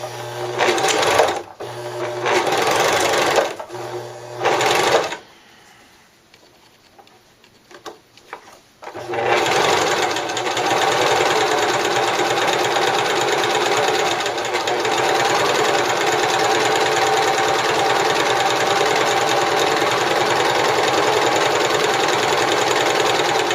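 A 4-thread serger sews a doll dress, chattering loudly and rapidly up close in several short bursts. After a brief quiet pause with faint handling noises, it settles into one long continuous run.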